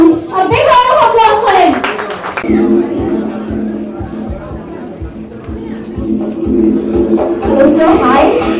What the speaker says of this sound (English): Everyone, a big round of applause for him.